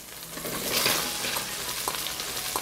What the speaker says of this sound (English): I fry leeks in the same fat.